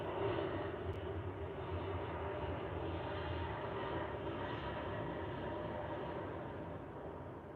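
An airplane passes overhead with a loud, continuous low roar that fills the whole stretch and eases off slightly near the end, with no voices.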